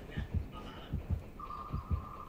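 A low, thumping heartbeat from the Dead by Daylight video game pulses in steady double beats, about three pairs in two seconds, under a faint steady tone and soft game ambience.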